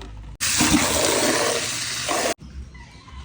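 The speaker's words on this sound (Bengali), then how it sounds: "আমরা কলোনি থেকে জলের বাটিগুলো বের করে নিলাম, এগুলো এবার ভালো করে ধুয়ে নেব।" Water gushing loudly from a tap for about two seconds while birds' water bowls are washed, a steady hissing rush that starts and stops abruptly, with quieter room noise on either side.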